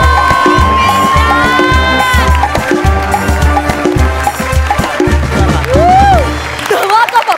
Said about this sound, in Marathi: बुंबाट सुसाट जोरदार टाळ्या